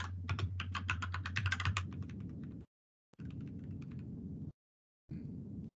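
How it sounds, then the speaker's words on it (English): Rapid clicking of keys on a computer keyboard as code is typed, a dense burst of keystrokes followed by two shorter runs separated by brief pauses, close and alone without talk. "I'm going to type in the comment."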